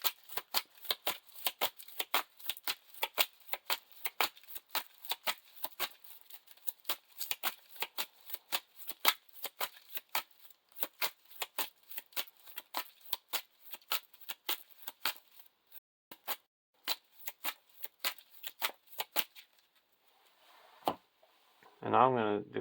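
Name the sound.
shuffling Lord of the Rings LCG playing cards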